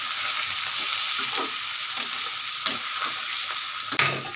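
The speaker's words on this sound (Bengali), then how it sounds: "আলুটা আমার আস্তে আস্তে একটু ভাজা হোক।" Potatoes fry for aloo dum in a pan with a constant hiss and sizzle, broken by occasional scrapes and knocks of stirring, close up and without talk.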